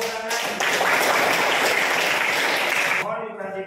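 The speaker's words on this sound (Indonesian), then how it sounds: "semuanya tepuk tangan" A classroom group bursts into applause, many hands clapping together in a dense, steady, close roar for about two and a half seconds, with a voice speaking briefly before and after.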